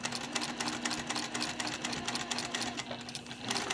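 A sewing machine runs steadily, stitching a seam on a small fabric flexi pouch, giving a fast, even mechanical whir and rattle close by with no talking.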